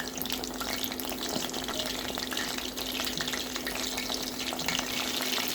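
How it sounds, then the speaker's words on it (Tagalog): Chicken bites frying in a pan over medium heat give a steady, even sizzle and hiss with small pops. A faint constant hum sits underneath, and no one speaks. "Fry for about 3 to 4 minutes on each side or until it turns to golden brown and medium heat."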